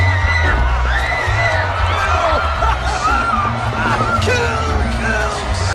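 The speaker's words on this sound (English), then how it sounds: "The throwing popcorn, people talking, laughing, screaming." A packed movie theater crowd yells, whoops and screams continuously, close and loud, with overlapping voices and cheering throughout and a steady low rumble beneath.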